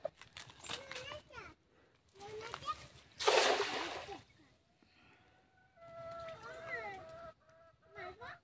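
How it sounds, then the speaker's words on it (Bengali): A cast fishing net hits the water with a broad splash near a rice field in the Sundarbans, followed by dripping and rustling, with chickens clucking and a voice talking before and after. "তো এই পাশে এইখানে একটা খেমন মারবো"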